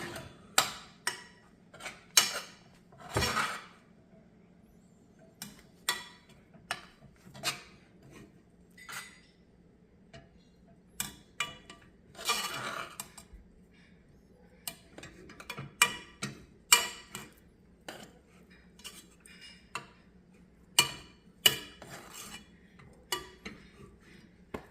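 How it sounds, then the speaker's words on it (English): A spoon scrapes and knocks against a bowl while stirring churro dough after all-purpose flour is added, giving irregular sharp clicks and taps, close and clear over a quiet background hum. "After you add the all-purpose flour, immediately just start stirring everything together"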